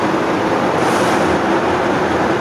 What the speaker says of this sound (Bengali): হায়দ্রাবাদ বিশাখাপত্তনম সুপারফাস্ট গাড়ি ছেড়ে দিয়েছে।